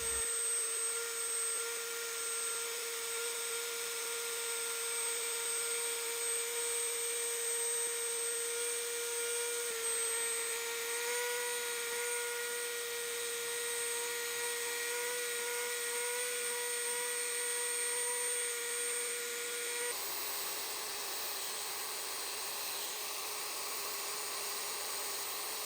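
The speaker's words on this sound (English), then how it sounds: "I'm going to pull the dremel out a bit here and do some fine detail carving with it." Small-bit Dremel rotary tool doing fine detail carving on a wooden wall picture, a steady high-pitched whine held close and constant throughout, with a slight drop in pitch near the end.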